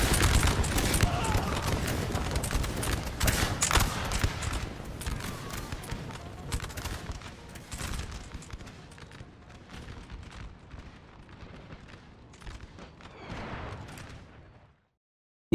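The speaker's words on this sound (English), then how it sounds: "From that building right there, they're just shooting directly into their flank." Musket volleys crackle through a Napoleon: Total War 3 battle in Austria, dense overlapping gunfire and booms loud at first, thinning and fading toward the end, with voices talking over it.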